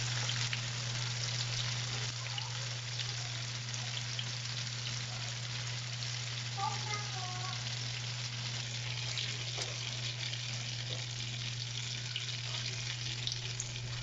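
Tofu frying in hot oil until golden brown, a steady close sizzle that runs unbroken and evenly loud with no talk over it.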